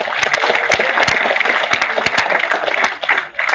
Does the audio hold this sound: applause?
yes